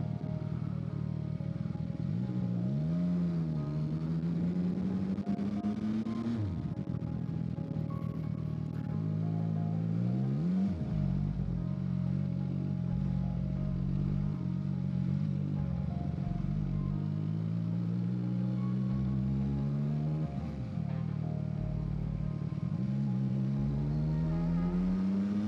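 Manual motorcycle engine revving unevenly as the rider learns the clutch, pitch repeatedly climbing then dropping with stalls and bursts, loud and close throughout with a steady low rumble.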